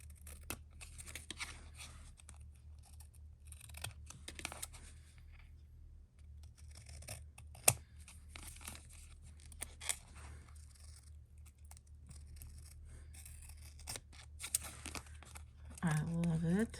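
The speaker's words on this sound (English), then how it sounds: "I'm going to get some bigger scissors here." Scissors snip and slice through paper while making a Dollar Tree sticker card, giving sparse crisp cuts and crinkles amid quiet room tone, with someone talking softly at points.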